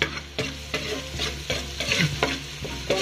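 Garlic sizzling in hot oil in a pan while being stirred for Jollibee-style spaghetti, a constant close frying crackle punctuated by regular scraping stir strokes, with no talk.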